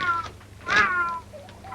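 A cat meows, one clear drawn-out call with faint shorter mews around it, close by with no talk over it.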